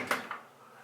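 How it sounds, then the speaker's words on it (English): A shower curtain in a hotel bathroom is pushed along its rail. Two quick, faint swishes with light ring clicks are close by and quiet, then the room falls still. "Shower curtain."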